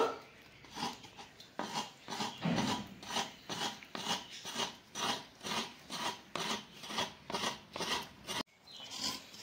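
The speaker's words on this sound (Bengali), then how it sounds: "মা নারকেলটা কোড়াচ্ছে পুর করার জন্য" A coconut grated by hand for a sweet filling, giving a steady run of rhythmic rasping scrapes, about a dozen strokes in a regular back-and-forth pattern, close and fairly quiet.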